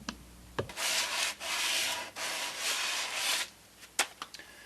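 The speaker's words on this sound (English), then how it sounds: "Had to use some sandpaper to get these trickier bits by hand" Sandpaper rubs by hand over the wood of a custom guitar body, several close, raspy back-and-forth strokes with short pauses between them.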